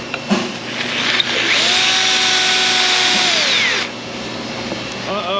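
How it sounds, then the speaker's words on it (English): A power drill whines steadily beneath an Infiniti FX35 in a repair shop, running continuously for about three seconds before spinning down, with a few short clanks before and after. "Okay, more drilling."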